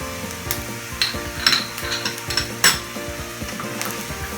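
Egg fried rice being stirred and mixed in a sizzling pan, with irregular scrapes and metallic clinks of the utensil against the pan over a steady frying hiss, close and alone.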